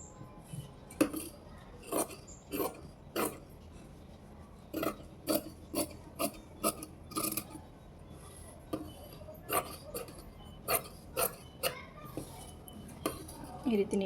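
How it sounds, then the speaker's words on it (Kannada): Scissors snip blouse fabric along marked measurements, sounding as a long series of crisp, close clicks in irregular bursts with short pauses between runs, over a quiet room. "ಈಗ ಈ ಮೆಷರ್ಮೆಂಟ್ ಪ್ರಕಾರನೇ ನಾನು ಕಟ್ ಮಾಡ್ಕೊಳ್ತೀನಿ."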